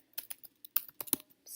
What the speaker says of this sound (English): struggling with my typing today